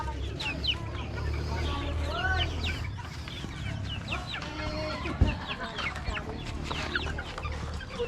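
A mother hen clucks steadily on a rural farm, with other chickens chattering and calling around her in a busy, close yard under a low outdoor rumble.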